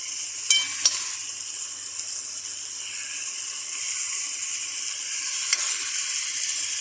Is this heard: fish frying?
yes